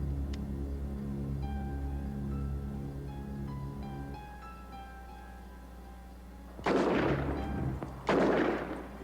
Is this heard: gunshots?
yes